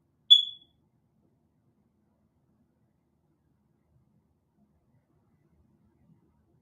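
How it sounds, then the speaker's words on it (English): A single short, high electronic chirp from a smoke detector with a low battery, sounding once near the start and followed by near silence. "It's nothing more annoying than your smoke detector beeping."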